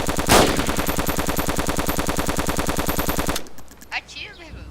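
Rapid automatic gunfire in DayZ rattles out as a long, evenly spaced burst at close range, then stops abruptly, followed by a few scattered fainter noises.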